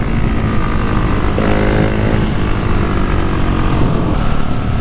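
A Husqvarna 701 single-cylinder motorcycle engine drones loud and steady while riding, its pitch climbing through gear changes, with constant wind rush throughout and no voices.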